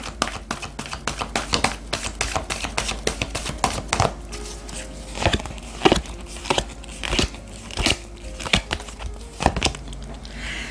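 Oracle cards are shuffled and drawn by hand, producing a long run of crisp, irregular card slaps and snaps. The sounds are close and fairly loud, come in bursts, and are heard without talk.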